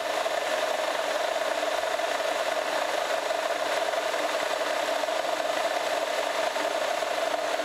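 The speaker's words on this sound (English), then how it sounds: "We're uh, drilling at 1425 RPMs." A steady mechanical whir and rasping grind of a radial drill with a small bit cutting metal at 1425 RPM, continuous and unchanging throughout.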